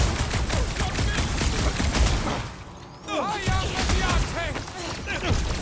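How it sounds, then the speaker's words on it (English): Dense rattling gunfire from cover fire in the Guardians of the Galaxy video game, loud and sustained, pausing briefly midway before resuming with whooshing effects and a voice talking over the battle. "I'll lay down some cover fire to get you across!"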